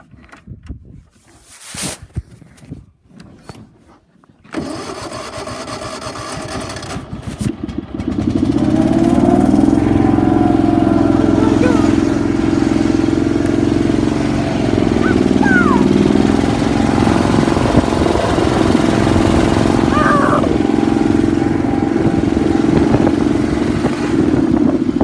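A motorcycle engine is cranked and catches in an outdoor setting, rising from scattered noise into a steady, loud, close running drone that continues without speech.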